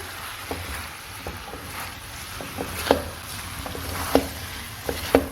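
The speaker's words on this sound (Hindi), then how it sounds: "अब हम इसमें 2 table spoon lemon juice add करेंगे, फ्रेश लेमन जूस। अब हम इसे अच्छी तरह से मिक्स करेंगे।" Chicken jalfrezi is stirred after fresh lemon juice is added, a soft wet scraping and mixing with scattered spoon clinks and taps against the pan over a low background hiss, with no voices.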